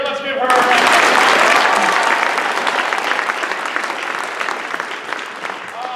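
Audience clapping in a school gymnasium after a school play, a loud burst of applause that swells at once and then slowly thins, with a voice briefly over the start.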